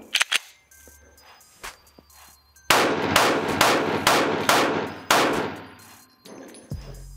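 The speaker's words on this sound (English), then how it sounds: "All right, we're gonna start off with the stock barrel." Stock-barrel Smith & Wesson M&P pistol fired in a string of sharp, loud gunshots, a few spaced cracks early then a rapid cluster of reports with ringing echoes, close to the listener.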